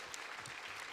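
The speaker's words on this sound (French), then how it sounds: "on applaudit les 4 intervenants, s'il vous plaît" A conference audience applauds four speakers. The clapping is steady but faint and distant, heard in a brief burst.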